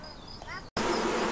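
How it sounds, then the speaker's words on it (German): Honeybees crowded in a bucket during queen-rearing work give off a steady, close buzzing hum that cuts out for a moment and then returns louder. "Ich habe jetzt hier den Eimer mit den Bienen, mit dem letzten Rest."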